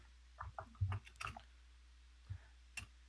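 Someone typing loudly on a computer keyboard, a handful of sharp scattered clicks in quick clusters followed by a pause and two more isolated taps, fairly close and alone in a quiet room.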